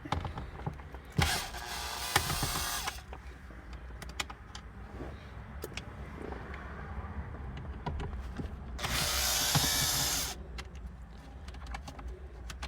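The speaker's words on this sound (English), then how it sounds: "We're going to take these screws out here." Screws being removed from a Mazda car radio: two bursts of ratcheting screwdriver clicks, close and fairly loud, separated by quieter handling and faint mechanical rattles, with no talking.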